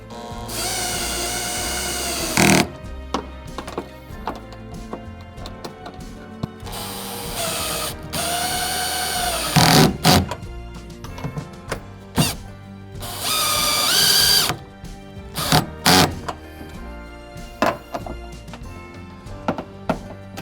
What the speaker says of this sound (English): I'm just gonna go around with my wrench and fasten all this down